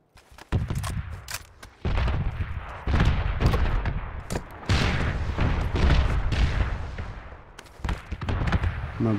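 Red zone bombardment in PUBG, with a barrage of heavy booming explosions landing in rapid, irregular succession, loud and close, rumbling between blasts.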